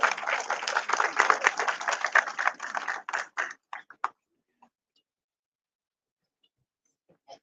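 Conference audience applause at a valedictory session: steady clapping for about three seconds, then thinning to a few scattered claps before falling silent.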